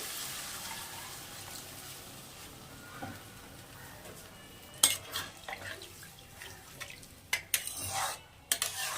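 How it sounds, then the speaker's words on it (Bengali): Water poured into a cooking pan of amudi fish curry with potatoes and onion stalks, a steady hiss running for several seconds, followed by scattered metallic clinks and scrapes against the pan. "এবার আমি সামান্য জল দিয়ে দেবো"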